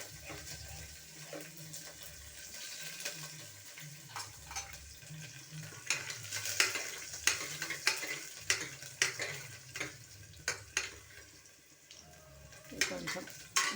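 Cumin, curry leaves and garlic frying in a pan for a Telugu okra pulusu, with a soft low sizzle broken by repeated scraping and stirring clicks that grow more frequent toward the end.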